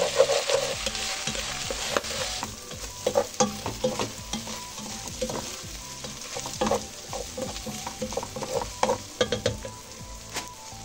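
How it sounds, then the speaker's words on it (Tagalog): Hotdog pieces stirred and fried in a pan for Filipino-style spaghetti, with a constant sizzle under repeated scraping strokes of a utensil against the pan, close and fairly loud. "lagyan na po natin ang hotdog"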